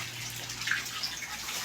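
Steady flow of water pumped through PVC pipe between concrete tilapia and crayfish ponds, a continuous low gushing wash with faint trickling, moderately quiet and alone.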